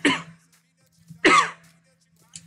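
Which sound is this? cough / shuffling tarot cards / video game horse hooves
cough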